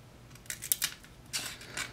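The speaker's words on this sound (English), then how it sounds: "It cuts limp catalog paper really well." A Will Moon MK 10 Bowie knife slices through limp catalog paper, making two short clusters of crisp rasping cuts that stand out clearly over quiet room tone.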